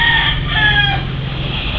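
Hens cluck loudly and close by at their nest during typhoon damage, with a short burst of busy clucking and crowing-like calls over a low background rumble.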